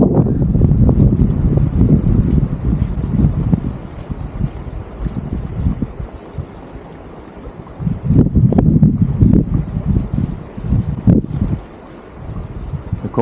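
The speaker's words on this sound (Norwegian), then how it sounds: "Vinden kommer litt I kast" Gusty wind buffets the microphone during sea trout fishing on the Rogaland coast in November, a heavy low rumble that surges in strong bursts and eases between gusts, with no speech.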